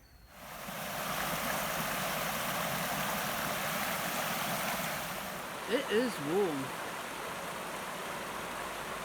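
The River Swale flows with a steady broadband rush close by, unbroken throughout. A voice speaks briefly near the end over the water.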